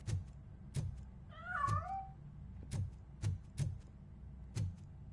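A cat gives one clear meow with a rising and falling tone, set among several sharp knocks and footstep-like thuds.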